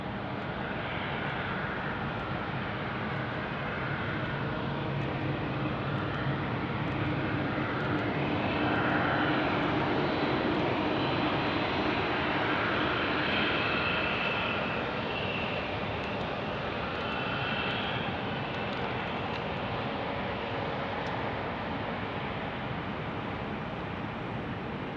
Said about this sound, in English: listen to those Wookiee engines. You can always tell it's an A220.